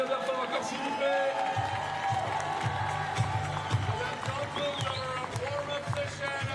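Stadium crowd at a Paris 2024 blind football preliminary match applauding and cheering after the Morocco and Argentina warm-up, a broad steady roar with scattered claps over an announcer's voice and background music.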